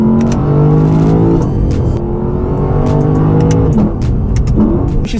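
A 2018 Lexus LC500's naturally aspirated V8 revs hard through its exhaust, a loud, close, continuous roar rising and falling through several climbs in pitch, alone without any voices.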